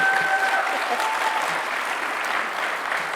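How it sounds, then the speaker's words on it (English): An audience at a role model recognition event claps loudly and continuously, a dense wash of applause that fills the whole moment, with a few faint voices and a brief whistle-like tone early on. "Let's give all these amazing women a hand."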